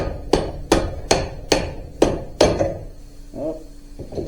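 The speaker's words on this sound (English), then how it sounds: "take the dead blow hammer and we'll kind of get it started in there" Six sharp, evenly spaced dead blow hammer taps on a part of a 2012 Polaris Ranger 500 Crew front end, each a solid knock, followed by a couple of quieter clunks.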